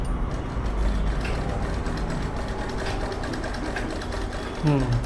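Sewing machine stitching fabric, a fast, steady mechanical whirr running almost continuously, close by, with a person talking over it.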